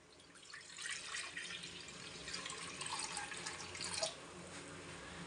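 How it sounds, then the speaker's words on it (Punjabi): Water pours into a kadhai on a gas stove for baingan bharta, a soft steady rushing splash that swells for about three seconds and ends with a small drip, fairly faint and with no voices. "ਕੜਾਹੀ ਦੇ ਵਿੱਚ ਆਪਾਂ ਪਾਣੀ ਪਾ ਲੈਣੇ ਆ"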